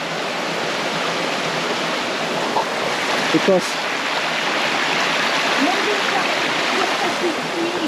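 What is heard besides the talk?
waterfall and flowing stream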